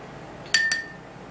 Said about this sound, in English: I'm just going to stir and mix really well.